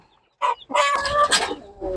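Free-range country hens and chicks cluck in short, close bursts in a poultry yard, a few quick calls followed by a longer stretch of busy clucking.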